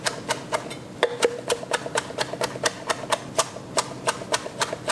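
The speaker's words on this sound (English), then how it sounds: "I'm gonna cut up our cilantro" A knife chops fresh cilantro in quick, steady, evenly spaced strikes, crisp and close, with no talking.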